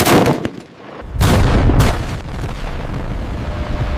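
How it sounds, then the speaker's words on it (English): Live-fire rounds from the 120 mm main gun of an M1 Abrams tank during Army acceptance testing, heard as loud booming blasts with long rumbling decay, one at the start and another around one second in, followed by a sustained roar. "The 120 millimeter main gun must fire armor-piercing, high explosive, and training rounds."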